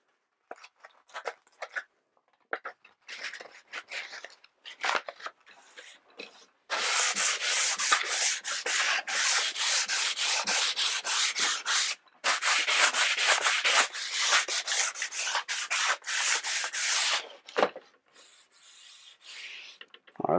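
Touring skis being sanded by hand with 120-grit sandpaper, a rough rasping rub that starts in short scattered strokes, then becomes a loud, rapid back-and-forth scrubbing with one brief pause before tapering off, with no talk.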